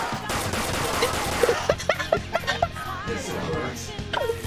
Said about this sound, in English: Dude, shoot him dead.